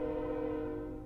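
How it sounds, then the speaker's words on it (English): A train passes behind a house, and its horn sounds as a sustained, faint tonal blare over a low rumble, heard alone for about a second. "We've got a train behind our house."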